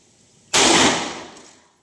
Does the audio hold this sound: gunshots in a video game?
yes